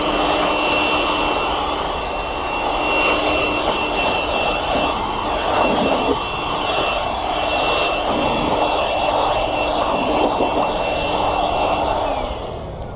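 Compressed air blasts steadily against an aluminum GMC Yukon hood, a loud continuous roaring hiss with slight surges as the nozzle moves, heard alone.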